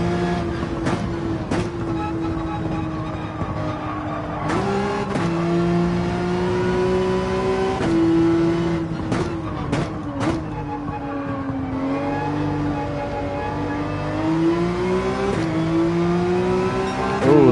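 A Gran Turismo 7 race car at full throttle around Brands Hatch, the engine revving loud and steady through repeated upshifts, with its pitch climbing and dropping through each gear.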